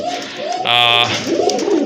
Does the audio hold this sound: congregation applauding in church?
no